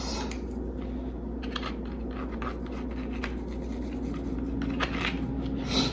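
Scissors cut a chunk out of a hair system base, giving a series of faint, close snips and scratchy rustles against a quiet steady background hum, with no talking.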